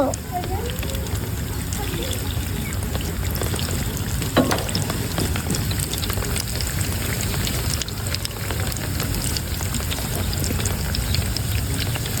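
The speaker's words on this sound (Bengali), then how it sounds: "তেলটা গরম হয়ে গেছে, তো এবার পেঁয়াজের চপটা ভেজে নাও।" Onion fritters sizzle in hot oil with a dense, continuous crackle and spatter that stays loud and close throughout, with a voice briefly audible underneath.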